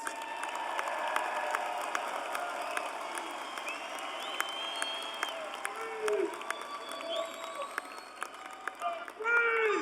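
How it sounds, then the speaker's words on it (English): Applause from graduates, families and friends at a Florida State College at Jacksonville commencement ceremony, a steady wash of clapping from a large crowd with scattered cheers throughout. "Let's give them a round of applause."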